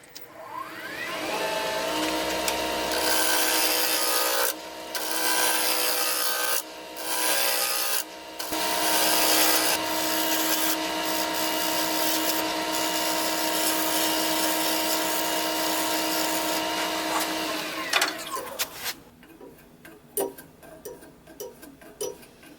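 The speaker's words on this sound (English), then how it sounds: "I'm going to use my roughing gouge to just round everything over and make sure it's smooth" A roughing gouge scrapes and rumbles against a spinning wood blank on a lathe, rounding it over. A loud continuous whirring rasp runs for most of the time with a few brief gaps, then winds down to quieter clicks and handling sounds.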